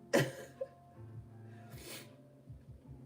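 A single sharp sneeze bursts out close up and loud at the start, followed by a smaller snort, then a quieter sniff and breathing.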